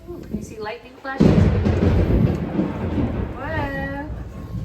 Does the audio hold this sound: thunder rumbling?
yes